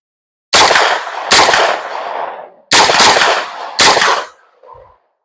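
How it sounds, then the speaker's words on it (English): Four loud, close gunshots from a parts-bin built gun, fired in an uneven sequence with echoing tails, followed by a faint mechanical sound. "Firing."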